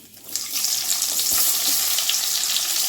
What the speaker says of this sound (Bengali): তেল গরম হয়ে গেছে, আমি এখানে কালো জিরে দিয়ে দিলাম।